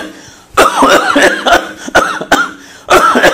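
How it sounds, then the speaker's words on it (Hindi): Several forceful, harsh coughs in quick bursts, close and loud, with brief pauses between them. "फौरी तौर पर खांसी कीजिए जैसे मैं कर रहा हूं"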